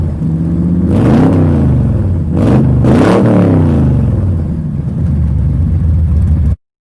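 A 1972 Chevelle Malibu coupe with a warmed-over small block 350 V8 runs loud and close, its throaty rumble rising through two quick revs before settling back to a rough idle, then cutting off abruptly.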